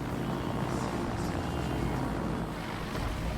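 Carrier aircraft engines drone in the World of Warships naval game, a loud, continuous propeller roar holding steady throughout with no talk over it.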